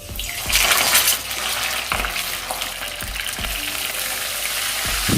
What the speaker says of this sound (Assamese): মাছ কেইপিচ মই হাফ ফ্ৰাই কৰি ল'ম